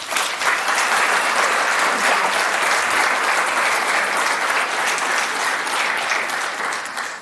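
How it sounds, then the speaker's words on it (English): Audience at a scholarship luncheon gives a loud, sustained round of applause for student speakers, a dense, even wash of clapping filling the room throughout. "let's give those student speakers one more loud round of applause"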